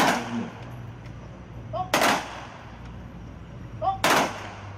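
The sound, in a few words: 21 gun salute gunfire at veterans ceremony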